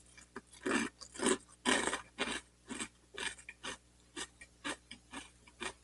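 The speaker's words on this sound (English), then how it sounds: "I'm impressed with the uniqueness of the dry crunch." Chocolate-shell snacks crunch loudly between the teeth in dry, crisp bursts, a dozen or so irregular bites and chews close to the mic with no talking.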